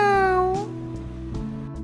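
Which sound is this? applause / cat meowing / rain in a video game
cat meowing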